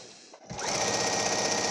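A sewing machine stitches a fabric face mask with edge binding and ties, starting after a brief quiet moment and then running at a steady, close, fast mechanical whir throughout.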